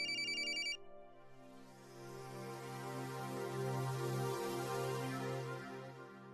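A phone ringtone plays, a short bright electronic tone that gives way to a sustained melodic ring, steady and fairly loud, with no talking over it.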